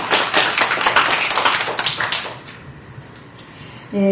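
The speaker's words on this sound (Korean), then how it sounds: "박수 보내드리겠습니다" A forum audience claps for a youth media campaign, a dense burst of applause that thins and fades after about two seconds before a voice begins at the very end.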